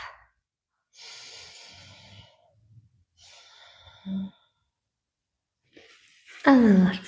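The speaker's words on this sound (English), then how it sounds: "Take a deep breath." Slow deep breaths during a seated yoga session: two long, soft airy inhales or exhales close by, separated by quiet pauses, with a short nasal puff and a louder voiced breath near the end.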